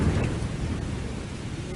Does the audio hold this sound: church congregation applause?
no